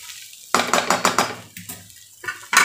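A spoon scrapes and clanks against a pan while chicken fried rice with egg and capsicum is stirred, giving a series of sharp metallic knocks at an uneven rhythm, close and fairly loud with no talk.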